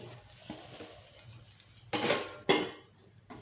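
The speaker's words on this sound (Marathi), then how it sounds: "ताट झाकून घेते आता ह्याच्यावर." A steel plate set down as a lid over a pan of kanda poha, giving two sharp metallic clinks close up with softer clatter around them and no voices.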